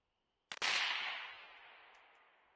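A single rifle shot fired with a Pulsar Trail 3 XR50 thermal scope mounted, a sharp crack followed by a long fading outdoor echo, standing alone against quiet.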